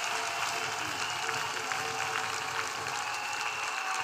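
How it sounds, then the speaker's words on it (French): An audience at a church gathering claps continuously, a dense, steady wash of hands that stays even throughout, with faint speech beneath. "Clap louder than this."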